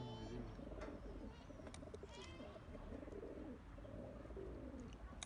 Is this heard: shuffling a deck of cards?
no